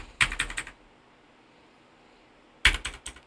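Someone types a Linux command on a computer keyboard, two short bursts of several quick clicking keystrokes separated by a quiet pause, close and crisp.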